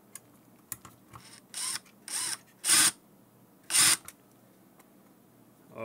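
A power drill spins screws into a golf cart motor controller in short separate bursts, about five quick whirring runs with quiet gaps and small clicks between, close and alone.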